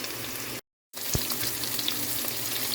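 Ginger and onion fry in hot oil for a chicken curry with kangkong, a steady close sizzle broken by a brief silent gap, then resuming with a single soft knock.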